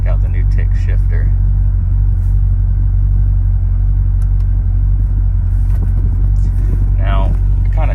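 A 2008 Corvette C6 Z06 drives on the road with a deep, steady engine rumble and road drone heard from inside the car, loud and constant, while a person talks over it.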